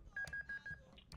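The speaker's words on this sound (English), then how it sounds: "I believe the phone is ringing" Telephone tone on a radio call-in sports talk show: four evenly spaced electronic beeps in a steady rhythm, fairly close and moderately quiet, with a brief click and rustle after them and no talk.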